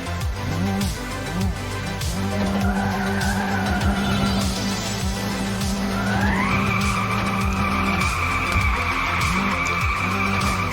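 Car tires skidding and squealing through drifts in the First Racer video game, with a loud sustained screech that bends upward over the engine drone, continuous and close, with no talk.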